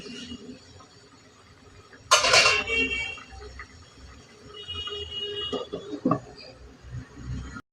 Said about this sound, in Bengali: তারপরে একটা ঢাকনা দিয়ে ঢেকে দিচ্ছি